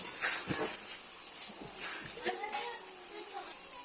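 Potatoes sautéing in a pan for a broiler chicken curry give a soft, steady sizzling hiss, while a voice talks over it.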